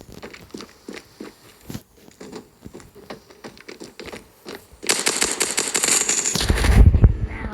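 Gunfire from an M110 rifle in the mobile shooter Standoff 2: a run of sharp, evenly spaced shots through the first five seconds, then a denser roaring burst with a heavy low boom near the end.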